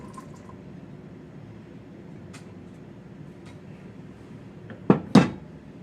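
Rinsed black beans tumble into an electric pressure cooker pot, two sharp clattering bursts near the end after quiet low rumbling background.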